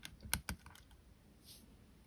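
A keycap clip being detached from an Intel MacBook Pro keyboard (A2141/A2251/A2289/A2338), giving two sharp close plastic clicks in quick succession, followed by quiet.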